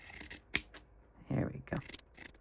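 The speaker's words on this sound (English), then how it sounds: "now I am going to use my pinking shears and try not to cut into my seam allowance" Pinking shears snip through Liberty print fabric while trimming a small scrap pillow: a few sharp, close cuts, one especially crisp near the start, spaced by quieter handling noise.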